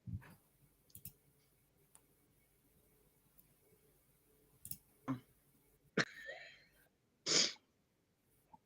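A single sharp sneeze bursts out near the end, preceded by faint clicks, small bumps and a brief breathy noise in an otherwise quiet indoor room.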